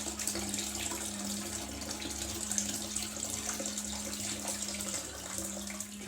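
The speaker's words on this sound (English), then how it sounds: "Okay, that's the hot water" Hot water runs steadily from a tap while the head of a 1968 Gillette Slim razor is rinsed, a constant soft splashing hiss with a faint low hum underneath.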